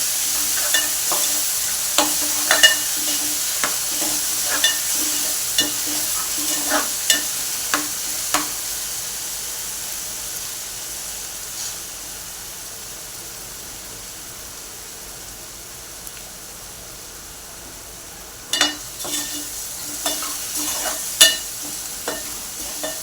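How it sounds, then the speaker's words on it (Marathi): Masala cooks with water and leaves for a prawn curry, a loud continuous frying hiss with bursts of spoon scraping and tapping against the pan early and late, up close. "आणि पाणी मिक्स करून घेऊया एक मिनिट परतून घेऊया आपण"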